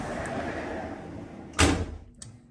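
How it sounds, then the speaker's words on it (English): A sliding bathroom door in a hotel room closes with one loud, close thud after a soft rolling slide, then a faint click. "This door closes too, but doesn't lock. The sliding door to the bathroom."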